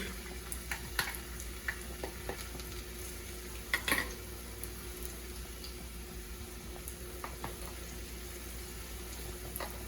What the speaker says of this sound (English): Now I'm gonna go ahead and add my onions into the oil.